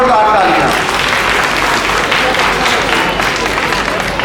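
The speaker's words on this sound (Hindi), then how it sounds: "उनके लिए एक बार जोरदार तालियां" A school event audience applauds the teachers with loud, sustained clapping from a large crowd, dense and steady throughout with faint voices mixed in.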